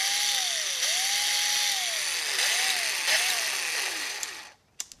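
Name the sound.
old Makita cordless drill running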